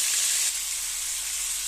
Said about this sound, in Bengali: এখানে মুরগিটা সুন্দর করে হালকা করে ভাজা নিব